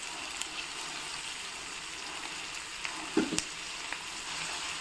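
Onion frying in a spoon or two of oil in a pan for veg noodles, a continuous close crackling sizzle with a couple of brief stirring knocks near the end, with no one talking.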